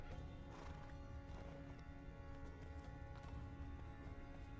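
Roach the horse galloping in The Witcher 3, a dense continuous drum of hoofbeats under a steady music bed with a neigh mixed in, all fairly faint.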